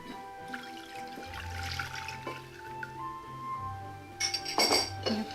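Hot water is stirred in a glass with instant coffee, a spoon clinking against the glass amid soft liquid swirling, quiet at first and then several sharper chinks near the end.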